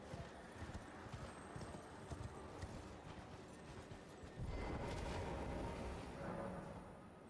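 Horse hooves clip-clop in a steady rhythm in a fantasy action role-playing game, fairly close and continuous, with a louder burst of movement and ambient noise partway through.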